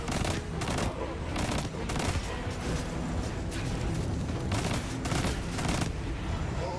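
Enemy gunfire in Destiny 2, dense overlapping bursts of automatic fire and sharp shots crackling continuously at high intensity, with game effects layered over the volley.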